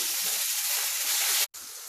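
Cuttlefish meatballs frying in a pan, a loud, close, steady sizzling hiss that cuts out abruptly near the end and then resumes more softly.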